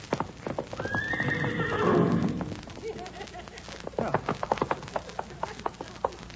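A horse gives a drawn-out whinny, followed by a rapid, uneven run of hoof clip-clops on a hard surface, close and fairly loud.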